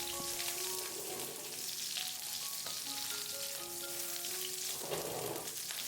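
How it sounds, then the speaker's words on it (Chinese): Pork belly stir-frying slowly in a wok over low heat, a steady close sizzle and crackle with occasional scraping of the spatula and no talk. "全程用小火慢慢的煸炒，把五花肉炒干水分"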